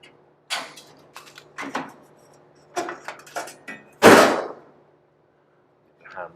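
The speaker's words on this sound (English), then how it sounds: "Hammer, give that a knock." A hammer knocks on a trimmed, loosely tacked metal panel at the door jamb of a customized 1938 Cadillac, a series of sharp close metallic taps with one louder blow near the end, without talk.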